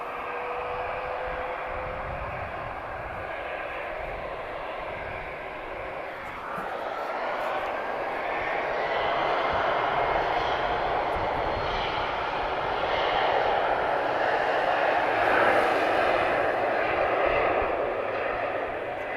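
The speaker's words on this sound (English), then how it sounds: "TP1014, she's flying to Madrid. Embraer E190 long range. TAP Express, of course." Jet engines of a TAP Express Embraer E190 long-range airliner bound for Madrid roar at Lisbon Airport as a steady broadband rush that swells louder midway, and someone talks over it.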